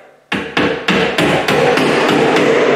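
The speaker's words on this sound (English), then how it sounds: "I'm actually taking the end of my hammer and I'm tapping it in" A steel hammer taps repeatedly against a nail set into metal drywall corner bead, about eight sharp, ringing strikes in a steady rhythm that grows slightly louder and quicker, close and alone.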